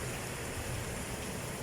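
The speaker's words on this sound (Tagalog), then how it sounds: "Grabe lakas ng ulan." Heavy rain pours down on a morning, making a steady, dense hiss that stays even throughout with no voices.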